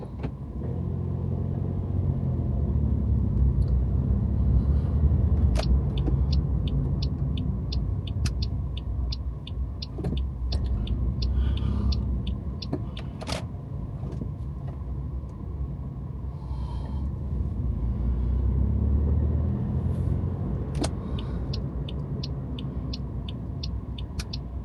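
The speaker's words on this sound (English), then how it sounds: "Seems to be a fair bit of traffic around." A car drives through traffic on Blackpool promenade, giving a continuous close engine rumble with passing vehicles swelling and fading over about 25 seconds, plus faint high clicks and no talk.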